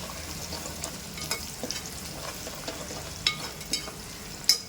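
Onions frying in a pan for kadhi pakoda, a close steady sizzle broken by a handful of sharp spatula scrapes and taps, with no voice.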